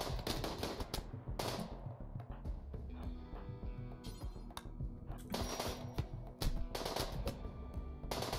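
Video-game gunfire from a Rimworld colony battle: rapid, dense bursts of shots and clattering impacts going almost continuously, close and fairly loud, with brief lulls between volleys.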